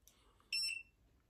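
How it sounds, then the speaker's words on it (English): A single short, high electronic beep sounds from a nearby device in an otherwise quiet room. "Oh, it's beeping."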